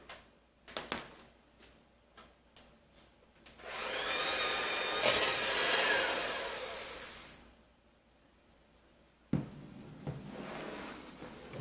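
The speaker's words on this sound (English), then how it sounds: "Use your hand mixer in your sink." An electric hand mixer beats a white sugar mixture inside a kitchen sink. A steady whirring drone runs for about four seconds, between scattered clicks and taps. The sound is close and clear, with no voices.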